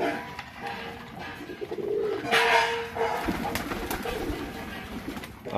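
Pigeons cooing softly and repeatedly nearby, with low rolling calls over a quiet background and some light rustling.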